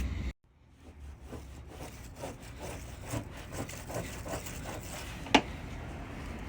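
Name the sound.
cleaning car trunk gasket surfaces by rubbing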